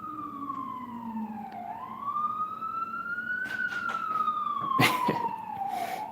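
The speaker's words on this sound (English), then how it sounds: "Let's wait until the siren stops." A wailing siren rises and falls steadily throughout, fairly close, with a few sharp clanks and knocks over it.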